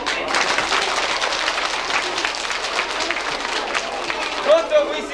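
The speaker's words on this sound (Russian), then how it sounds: "Ну давайте себе же и похлопаем." A hall full of primary-school children at a 1995 school celebration claps for themselves, a dense, steady burst of applause lasting several seconds, loud and close, with a bit of shouting mixed in.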